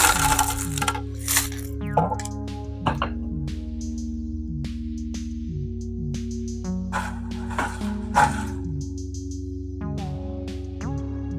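Leca clay pebbles clink and rattle while a tropical plant is potted in them with sphagnum moss. Sharp, bright clicks and scattered rattles come in clusters over a steady musical background.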